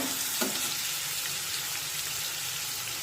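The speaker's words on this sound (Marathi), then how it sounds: "आणि हा कांदा हलका तांबूस रंगावर परतून घेऊया" Onion sautés in a pan to a light golden brown for a potato rassa bhaji, with a constant bright sizzle and a faint stirring tap near the start.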